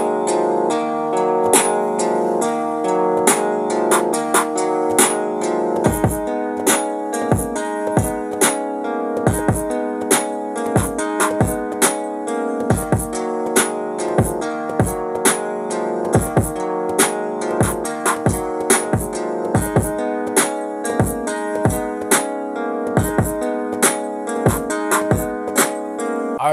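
A hip-hop beat built from layered kick and snare struck together, repeating in a steady punchy rhythm over a sustained tonal backing, loud and alone with no talking.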